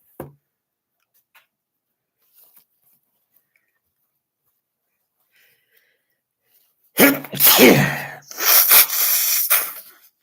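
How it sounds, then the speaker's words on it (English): After a long stretch of quiet with a few faint ticks, two loud, close sneezes burst out one after the other near the end. "Keep having these big sneezes."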